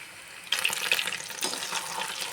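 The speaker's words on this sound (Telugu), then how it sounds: "ఇలా ఎన్ని సరిపోతే అన్ని వేసేసుకొని మీడియం ఫ్లేమ్లో వీటిని వేయించుకోవడమే." Type 65 pakodi fry in hot oil over a medium flame, giving a soft, steady sizzle and crackle that starts suddenly and carries on without talk.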